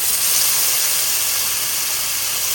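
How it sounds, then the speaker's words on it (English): A beef roast searing in olive oil in a Dutch oven gives a steady, loud, close sizzle of broad hiss that holds unbroken throughout, with no talking. "I've got my roast here that I am just browning with olive oil and salt and peppering every single side very heavily as I sear it"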